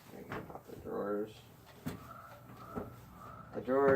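Plastic drawers of a Stanley black chrome 101-piece tool kit case slide and click shut, a few short knocks and scrapes close by, with someone talking over them.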